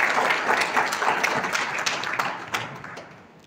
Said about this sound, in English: I'd encourage everybody in the audience to help me do that with a round of applause